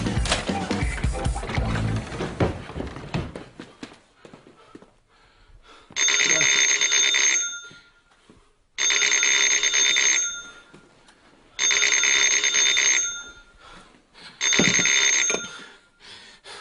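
A telephone bell rings in four long bursts separated by short pauses, loud and close, after a stretch of noisy commotion at the start.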